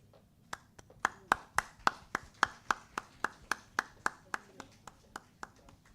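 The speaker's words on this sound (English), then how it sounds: "Please give a round of applause" Applause at a company foundation day award ceremony, a steady run of about twenty sharp claps at a regular pace, faint and fairly close, sounding like a single pair of hands rather than a crowd.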